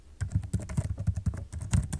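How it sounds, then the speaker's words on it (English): Rapid, steady keystrokes rattle on a computer keyboard, close and clear with no voices. "let's go in and type"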